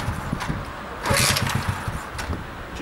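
A Delta moped engine cold-starting in winter: a brief sputtering catch of the small two-stroke motor with a burst of noisy revving, heard close and fairly loud before it falters.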